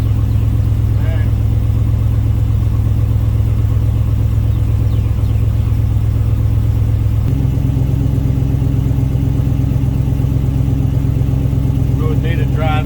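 A Hemi car engine runs steadily throughout, a loud continuous low rumble close by that shifts to a higher, busier tone about halfway as the gas is applied, with faint voices in the background.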